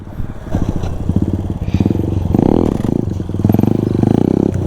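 A stock Bajaj Pulsar NS 200 motorcycle engine during wheelie training, heard as a close, throbbing putter that rises into revving bursts, with a voice talking over it.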